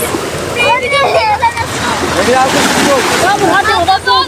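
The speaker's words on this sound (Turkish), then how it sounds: "Dalga çıktı ya gidiyor" Sea waves wash and splash steadily on a beach during a seaside picnic with children, a continuous broadband rush with surges, while voices talk and chatter over it throughout.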